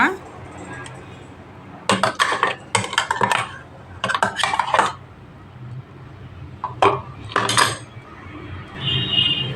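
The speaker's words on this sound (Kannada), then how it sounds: "ಇದು ಬೌಲ್ಗೆ ಹಾಕೊಳ್ಳೋಣ ಇವಾಗ" Repeated metallic scraping and clinking of a spoon against a bowl in short bursts as ground onion paste is scraped in, close up, with faint voices in the background.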